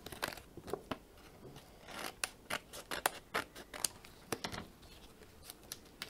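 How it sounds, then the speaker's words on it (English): Scissors snip through craft paper to trim off excess from a card topper, a series of short crisp cuts at an irregular pace, close and fairly quiet with no talking. "And then just trim off what we don't need"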